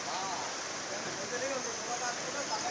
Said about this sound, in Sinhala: වතුර ටික සැරට යනවා.